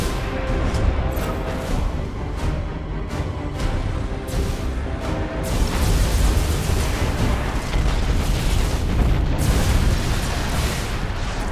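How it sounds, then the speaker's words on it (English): Detonated mines in the space-warfare game Battlefleet Gothic: Armada 2 erupt in a sustained, loud roaring rumble of explosions that swells midway and continues without pause, with no speech. "That explosion should clean our tails of these traitors."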